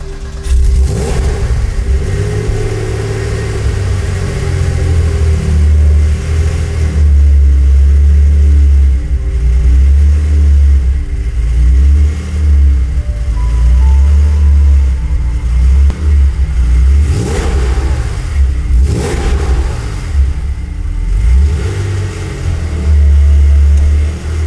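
A Porsche 964, a classic rear-wheel-drive sports car, drives through corners with its engine revving loudly and continuously, rising and falling in pitch and close by throughout, with no talking.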